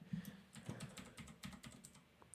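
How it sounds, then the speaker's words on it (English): Quick, light keystrokes tap out on a computer keyboard in an uneven burst, soft and close, with no one speaking. "you could hear me typing there"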